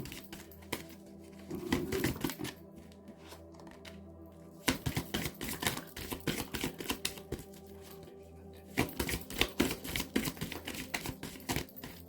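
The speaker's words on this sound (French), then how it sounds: "je laisse tomber les cartes" Tarot cards being dropped and shuffled, with dense runs of quick papery flicks and taps in bursts separated by short pauses, close and soft.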